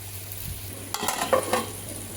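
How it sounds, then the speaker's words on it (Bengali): Eggs added to a pan after fried cauliflower, a soft steady sizzle of hot oil with a few scraping stirs of a spatula against the pan in the second half, close and unaccompanied by speech. "ফুলকপি ভাজিটা হয়ে গেছে, তো তুলে নেব। একবারে ডিমগুলোও দিয়ে দেব।"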